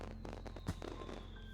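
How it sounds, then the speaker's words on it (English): Fireworks go off in the Katawa Shoujo visual novel, a few faint, distant pops and crackles spaced over a soft background hum. "of us stare at the fireworks fixedly through the canopy of the trees, enthralled by the show"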